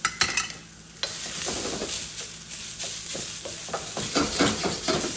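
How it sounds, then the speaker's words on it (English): Green onions stir-fried in a wok for pork and shrimp fried rice, loud hissing sizzle with repeated scraping and clanking of a spatula against the metal, tossed in quick uneven strokes, no talk. "Stir fry this just for a couple seconds"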